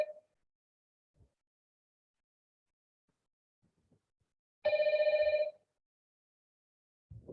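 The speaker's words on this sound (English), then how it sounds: "I think it's a phone sound" A telephone rings once in a short electronic trill, loud and clear against near silence, with a few faint clicks before and after.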